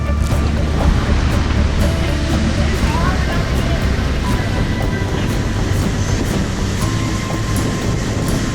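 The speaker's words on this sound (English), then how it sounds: "This is one of the bigger wave days we've had." Large waves breaking along a rocky Caribbean coast of inlets and caves, a steady broadband roar of surf washing continuously throughout, loud and close, with occasional crashes rising over the rumble.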